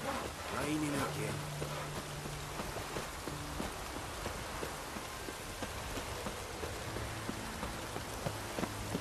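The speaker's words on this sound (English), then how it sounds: "Raining again." Rain in the video game The Witcher 3, a soft steady patter of drops under the game's background music and clip-clopping, faint and continuous throughout.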